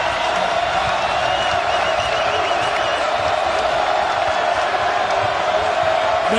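Basketball crowd in a Miami arena during a Duke–Miami college game, a dense, steady roar of cheering and whoops held at full loudness throughout, with some voices mixed in.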